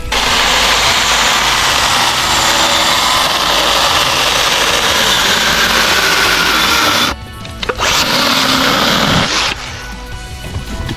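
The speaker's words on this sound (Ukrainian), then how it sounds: "Міні-пила акумуляторна Вітлс Мастер АКЗ 1802 з акумулятором на 2 ампера." A Vitals Master AKZ 1802 cordless mini chainsaw with a 2 Ah battery runs loud and steady with a high motor whine, drops away briefly near the end, then revs back up on its own.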